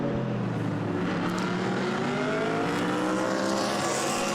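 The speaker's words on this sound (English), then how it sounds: "The famous Monza banking in the background as the cars come through the parabolica past the pits." GT race cars from the Blancpain Endurance Series sweep through Monza's Parabolica and past the busy pit straight, engines droning loud and continuous with overlapping revs and pitch shifts as several cars pass close by.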